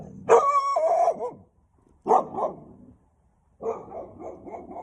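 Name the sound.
dog barking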